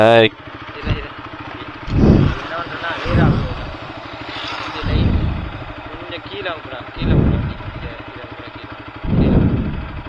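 A TVS Apache 160 4V BS6 motorcycle is ridden, its engine note rising and falling in repeated throttle swells with steady exhaust drone, while a rider talks over it.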